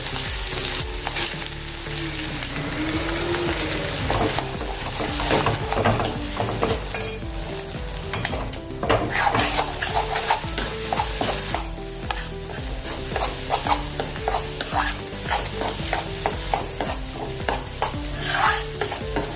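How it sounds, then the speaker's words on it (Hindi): Ground spice paste sizzles steadily in hot oil while a utensil stirs and scrapes the pan in repeated strokes, cooking lotus stem curry. "अभी इसमें हम अपना मसाला डाल देंगे, जो मिक्सी जार में हमने पीसा है वो"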